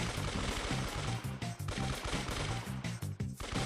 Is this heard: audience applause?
no